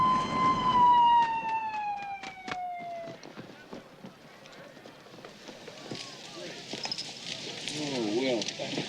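An ambulance siren wails with a falling tone at the start, then fades under a busy mix of voices and movement noise.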